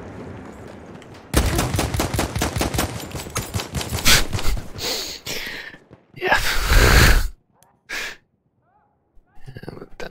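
Rapid rifle gunfire in a World War 1 video game, a loud fast string of evenly spaced shots followed by several scattered heavier bursts and blasts, then brief quiet gaps with a few distant pops.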